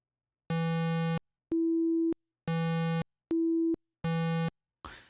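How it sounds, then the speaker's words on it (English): Synthesizer tones alternate: a buzzy, harmonic-rich square wave and a pure sine wave an octave above it, each held about half a second with short gaps, clean and steady, ending in a brief noisy burst. "I add another sine wave, no, let me add a square wave. That's an octave lower."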